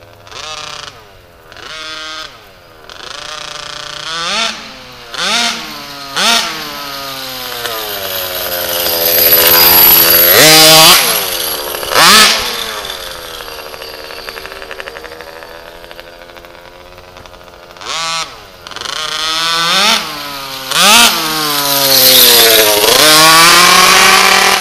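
HPI Baja RC car with an RCMAX 90GT gas engine running during break-in, loud buzzing two-stroke revs rising and falling in repeated bursts, with longer sustained high-rpm stretches, close by.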